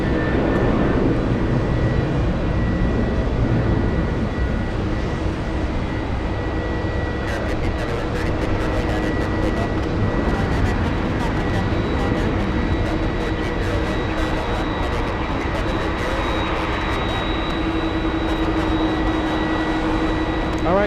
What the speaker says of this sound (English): We got the Delta Airlines 737